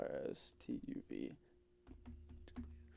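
Fingers type rapidly on a computer keyboard during a speed test, a quick close clatter of key clicks heard mostly under and between voices of people talking.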